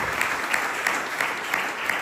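A church congregation claps steadily and densely for the King of Kings, with a faint rhythmic pulse running through the sustained applause and no voices standing out.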